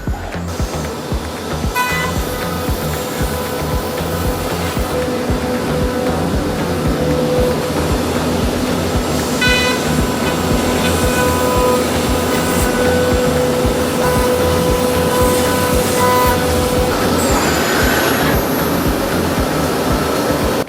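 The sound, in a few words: CNC router machine running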